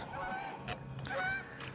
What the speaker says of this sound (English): These geese about hit us.